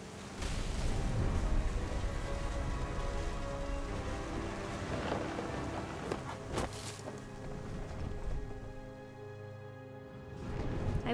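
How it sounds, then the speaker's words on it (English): Steady rain with low rolling thunder in What Remains of Edith Finch, a dense, continuous patter with deeper rumbles rising and fading, fairly quiet and steady. "The thunder sounded much too close and full of angry power."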